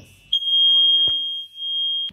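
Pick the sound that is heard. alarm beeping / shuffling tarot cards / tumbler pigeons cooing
alarm beeping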